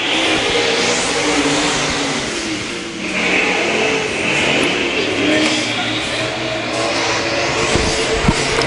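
A-Modified race cars in a qualifying heat race at Central Missouri Speedway roar steadily around the dirt oval, their engines a continuous loud drone with rising and falling passes, mixed with faint crowd and announcer sounds.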